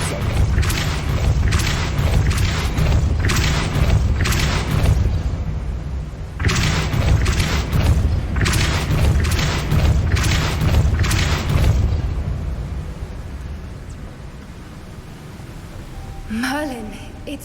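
The Depulso force-push spell in the Hogwarts Legacy video game lands as a long run of heavy, rapid booming thuds and crashes, briefly pausing then resuming before fading out, with voices heard among them.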